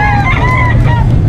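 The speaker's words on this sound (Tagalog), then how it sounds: "Ang dami mga pangsabong." Fighting roosters at a Saturday livestock market in San Carlos City, Pangasinan, a brief loud close squawking call with a busy low-pitched market background.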